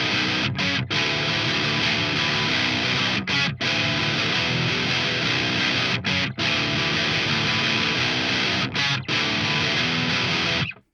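A distorted baritone guitar riff built from octave chords and power chords with an added ninth, loud and sustained with short rhythmic breaks between phrases, played alone for about ten seconds.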